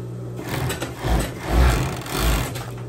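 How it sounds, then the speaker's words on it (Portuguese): An overlock (interlock) sewing machine closes the side seams of a dress, running in three short low-pitched motor bursts with brief pauses between them, near and fairly loud. "eu já posso ir direto lá na interlock e fechar as laterais"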